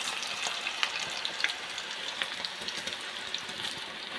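Drumstick leaf and onion pakoda batter fries in hot oil, giving a close, even, crackling sizzle with small pops scattered throughout and no talking.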